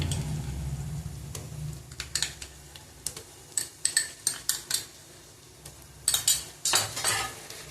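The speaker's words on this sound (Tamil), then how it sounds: "இப்போ வந்து இஞ்சி பூண்டு போடுவோம்" Ginger garlic paste frying in a pan for mushroom biryani, stirred with a metal spoon: a run of sharp scraping clinks and taps against the pan over a faint sizzle, close and fairly loud.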